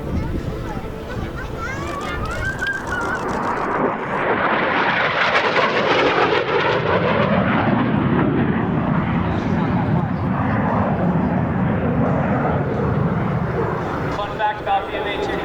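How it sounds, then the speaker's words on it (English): A Marine Corps AV-8B Harrier jet makes a high-speed low pass at the Cherry Point airshow, its loud roar swelling and sweeping past before trailing off, with an announcer talking over it. "From the right, Lieutenant Colonel Schrock conducting another high-speed low pass"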